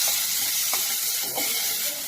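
Turkey berries sauté in a hot pan, giving a steady close hiss and sizzle with a few soft stirring clicks.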